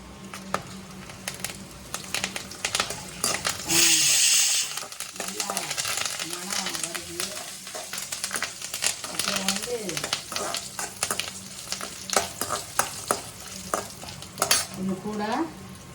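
Fennel seeds and two sprigs of curry leaves fry in a pan on medium heat, a loud, close sizzle that bursts louder as the leaves hit the oil, with spattering crackles and stirring, and a voice talking over it.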